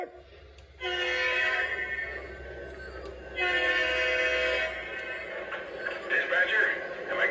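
Model railroad trains running on a layout, with sustained horn-like tones sounding in two long blasts over a low rolling rumble, people talking faintly in the background.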